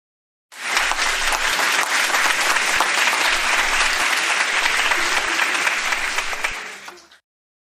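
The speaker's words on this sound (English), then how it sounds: "let's give a big round of the applause" Applause from a studio audience at a hide-and-seek champion show, a dense steady clapping that starts abruptly, holds loud and even for about six seconds, then tapers off.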